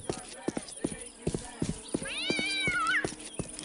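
A cat in Postal 2 gives one rising-then-falling meow near the middle, set among clattering game sound effects and footsteps.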